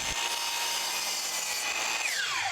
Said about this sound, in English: So I'll start by cutting my slats, rails, and cleats to length on the miter saw.